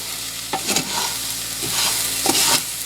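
Rice fries in a pan for Mexican rice while being stirred, a continuous close sizzle with a few scraping, shuffling bursts from the utensil moving the grains.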